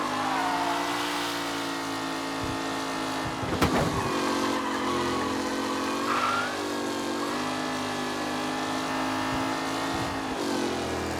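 Racing cars' engines roar steadily in the video game Mafia, a dense, continuous drone of several cars running close together at high revs, with pitch rising and shifting and a sharp clatter or impact around the middle.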